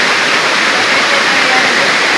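Water pours down from a mountaintop watershed at Sitio Marabo, Barangay Mambaroto, a loud, steady broadband rush like a close waterfall, unbroken throughout.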